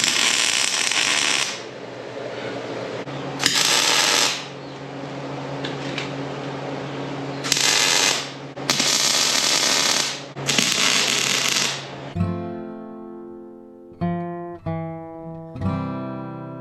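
Stick welding on mangled steel pallet forks with a 3/32 rod, making several bursts of steady crackling arc hiss, each lasting a second or two with short gaps. A different tonal, clanking sound follows at the end.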